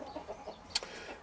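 Soft, quick clucks from chickens nearby in their run on an allotment, a few short calls in a row with one sharper squawk, quiet background.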